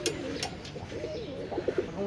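Indonesian racer pigeons coo softly in low, rolling calls over background noise, with a few brief sharper sounds mixed in.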